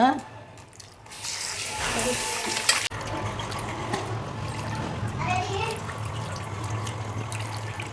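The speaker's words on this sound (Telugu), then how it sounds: "ఇది బాగా కడుక్కోవాలా శుభ్రంగా నీళ్ళు అడుగుతాను చూడండి" Tap water runs and splashes over minced mutton being rinsed in a bowl for mutton keema puttu, a steady close wash with a voice audible in the background.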